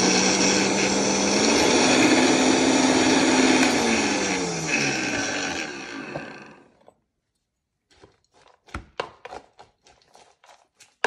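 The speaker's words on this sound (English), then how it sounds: "A little bit of water to facilitate the blending." A loud blender whirs for about six seconds pureeing white beans with a little water, its motor pitch shifting as the contents churn, then stops; scraping and clinking sounds follow.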